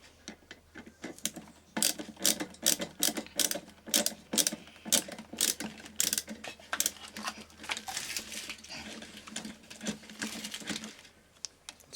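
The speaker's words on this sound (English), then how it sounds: "I'm going to undo these 3 screws and get our coil out" Screws being undone on an electric kettle, a rapid run of clicking ratchet-like ticks from a screwdriver, close and fairly loud, going in bursts for several seconds.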